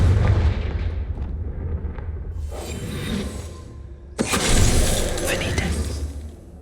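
Confringo explosion spell cast in the video game Hogwarts Legacy, heard as two loud booming blasts over a steady rumbling game backdrop, the second burst sharper and more forceful.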